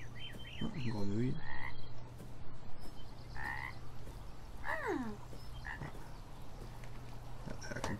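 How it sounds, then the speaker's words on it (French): Frog croaking in the video game Beyond Eyes, a few bursts of throaty croaks over a steady low ambient hum, fairly close and clear with quiet gaps between. "Oh, une grenouille."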